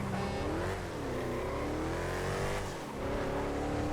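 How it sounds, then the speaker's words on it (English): The Frankensteiner car in GTA FiveM revs with a steady, rich engine tone that rises and dips through shifts, loud and continuous, with one brief lift before pulling again. "Frankensteiner, what a machine. This is the best sounding car in the game."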